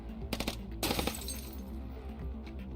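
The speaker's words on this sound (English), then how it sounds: "That's an SMG." SMG gunfire in the video game Snowbreak: Containment Zone, a few sharp cracking bursts early on followed by a ringing, glassy decay over a low background hum.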